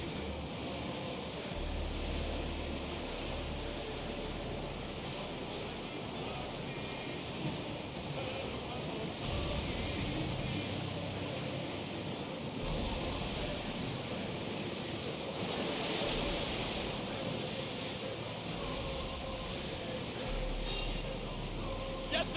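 Open sea waves in Assassin's Creed Odyssey roll and wash in a steady, full-bodied roar with gusty wind noise, swelling in places but never breaking into distinct crashes.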